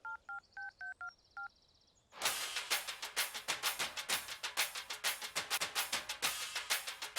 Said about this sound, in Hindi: मैं तुम सबके सामने से फोन करके पूछता हूँ